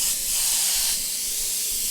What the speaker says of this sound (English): so you're getting a nice broad spray